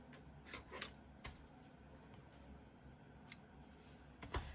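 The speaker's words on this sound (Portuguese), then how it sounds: "Então, nós vamos cortar o fio." Scissors snip through crochet yarn while a hexagon piece is finished, a few faint, sharp clicks spread across an otherwise quiet room, with the last cut slightly louder.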